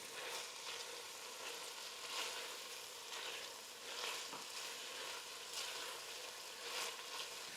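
Homemade Thai curry paste frying in a pan for tom kha gai soup, a soft continuous sizzle and crackle that swells gently every second or so, faint and close with no voices.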